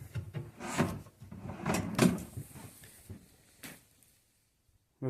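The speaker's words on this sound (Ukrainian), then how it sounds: "Ось зроблена шухлядка." A push-to-open drawer in a chipboard portal built around an electric fireplace is pressed and slid, giving close wooden knocks and a rumbling slide, then quiet before a sharp final click.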